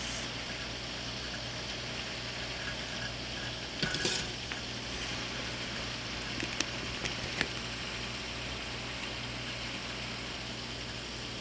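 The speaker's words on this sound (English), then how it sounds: "So the water is now boiling for the potatoes." Water boiling in a pot for potatoes bubbles and simmers steadily, a soft continuous seething with a few faint clinks, close by and quiet.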